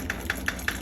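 A De'Longhi EC685 espresso machine pump running dry during descaling gives a steady buzzing drone with four evenly spaced rattling pulses in under a second, close and moderately loud.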